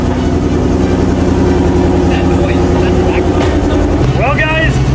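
A rebuilt 1,000 horsepower Shelby GT350 engine starts for the first time and settles into a loud, steady, heavy idle that drones throughout. Short sharp clatters and a rising whine appear near the end.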